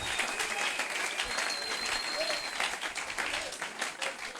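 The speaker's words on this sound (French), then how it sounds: "Acclamez Jésus très très fort" A church congregation at a French-language Bible conference applauds loudly, a dense, steady roar of clapping with cheering voices mixed in throughout.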